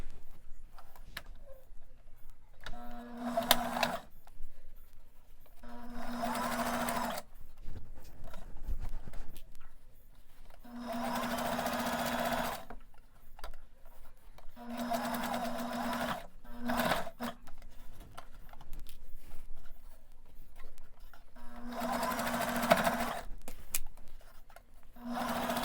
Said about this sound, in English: and then straight stitch all the way down.